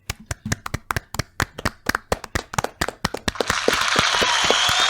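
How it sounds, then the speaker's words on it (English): Sharp, evenly spaced handclaps from a soundboard applause effect ring out alone, then swell into a dense, steady wash of crowd applause that holds loud to the end. "give a nice round of applause for the soundboard"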